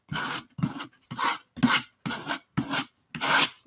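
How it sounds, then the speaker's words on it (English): A scraper drags across a mixed media art surface to smooth it, making seven distinct raspy strokes in an even back-and-forth rhythm, close and fairly loud with no talking. "You can scrape this smooth"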